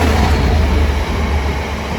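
A Class 66 diesel locomotive, number 66614, rumbles steadily past at Watford Junction on the West Coast Main Line, a loud, close, continuous low roar of engine and wheels.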